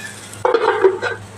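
Eggplant pieces with salt and turmeric frying in a pan, covered with a lid. A low hum gives way to a stronger burst of sizzling and stirring that lasts about a second, with light scraping against the pan and no voices.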